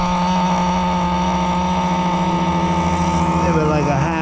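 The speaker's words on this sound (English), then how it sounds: "I just got it idling after I tightened up the engine" XtM X-Cellerator Street Edition nitro RC car engine with an RS4 motor idling after tightening, a loud, steady buzzing drone with a slight pitch wobble near the end.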